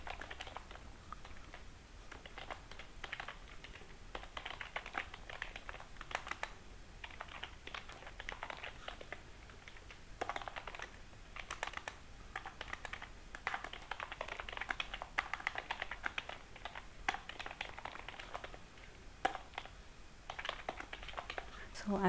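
Code typed on a computer keyboard for a JavaScript exercise, a faint, steady patter of rapid key clicks running the whole time at low level.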